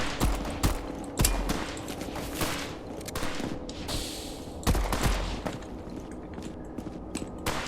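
Gunshots ring out in the heavy-metal gardening video game Metal Garden, several loud sharp bursts at irregular intervals with scattered footsteps and clatter between them, and no talking.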